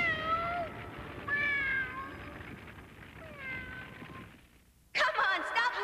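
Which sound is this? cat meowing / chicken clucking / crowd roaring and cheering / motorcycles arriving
cat meowing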